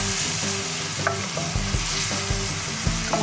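Fruit and sugar cooking down in a pan into a jam-like caramel, a close, steady bubbling and sizzling with soft repeated plops and stirring sounds.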